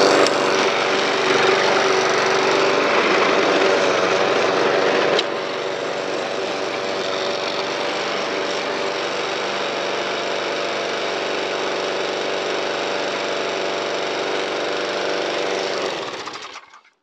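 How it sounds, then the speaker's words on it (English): Old engine running steadily with a loose, unfastened lid rattling on top, a loud, dense mechanical clatter that drops slightly in level partway through and then cuts off at the end. "And this one might rattle about a bit because I haven't got this lid fastened down."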